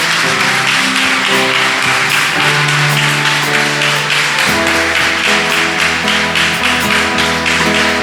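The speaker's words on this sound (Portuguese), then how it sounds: "pode aplaudir ao Senhor?" A church congregation claps in a steady rhythm along with music, the sharp taps repeating evenly throughout.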